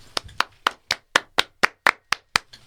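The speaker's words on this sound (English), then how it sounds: "I want to get a quick round of applause." On a sports podcast, a small group gives a quick round of applause: about eleven sharp, evenly spaced claps, close and crisp, with no talk over them.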